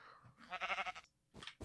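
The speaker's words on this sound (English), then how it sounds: "Pink sheep." A pink sheep in Minecraft gives a short wavering bleat, followed by a brief second bleat, faint and on its own.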